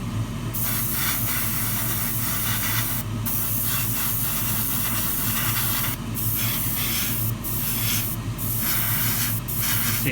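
Spray paint hisses onto Tamiya 1:24 Ferrari LaFerrari model chassis parts in a run of short and long bursts with brief gaps between them, close and loud over a low steady background hum.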